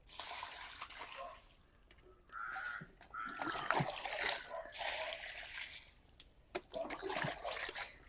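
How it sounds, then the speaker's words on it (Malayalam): A bucket scooping warm, sun-heated water out of a small pond, with splashes and trickling pours in bursts, crows cawing nearby. "ഈ ബക്കറ്റ് വെച്ചിട്ടാണ് വെള്ളം കോരി കളയണേ"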